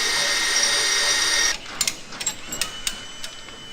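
A power drill whines steadily while boring holes in a poly baler liner panel, then cuts off, followed by scattered clicks and knocks of the hardware being handled.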